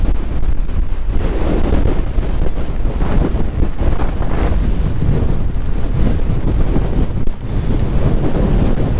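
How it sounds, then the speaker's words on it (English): Loud, roaring wind from Storm Fergus buffets the microphone in heavy continuous gusts on a mountain in the Rhinogs, a dense rumbling rush that barely lets up, with no voices. "the wind is picking up, some big heavy gusts"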